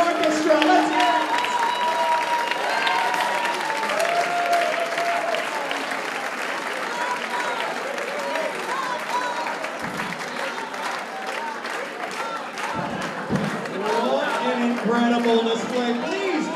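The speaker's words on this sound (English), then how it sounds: "Please, another huge round of applause for your finalists." An audience applauds swing dance finalists at a Lindy Hop festival competition, sustained loud clapping and crowd cheering from a packed room throughout, with voices and whoops mixed in.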